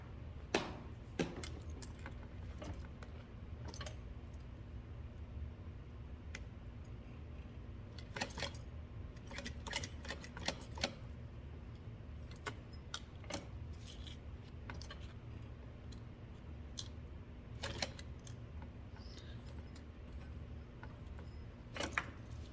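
A sewing machine stitches a box stitch on a crossbody strap with a faint, steady motor hum, broken by scattered sharp clicks and taps throughout.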